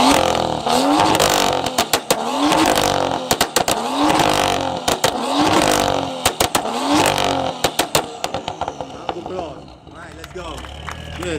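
BMW engine revving with its exhaust valves open, a series of loud rising blips and crackling pops in repeated bursts, close to the microphone, tapering off toward the end.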